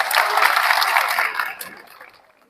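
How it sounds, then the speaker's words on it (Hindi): An audience applauds after a political speech at Khanquah Munger, a loud dense burst of clapping that holds steady and then fades away. "बजाइए ताली"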